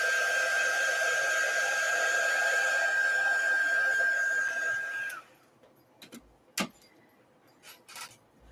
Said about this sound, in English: I'm going to just use the heat tool here for a second to dry this.